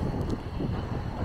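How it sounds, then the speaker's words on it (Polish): Wind blowing across a mountain viewpoint in Turkey, a brief, steady rush and buffeting roar against the microphone, loud and close, with no voices. "Ale też wiatr."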